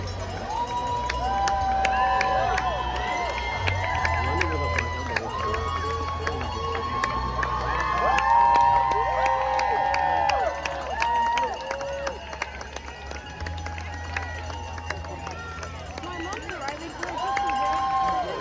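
Spectators cheer and shout along a city street in Ottawa as marathon and half marathon runners near the finish line, a steady crowd roar with whoops and an announcer's voice over it.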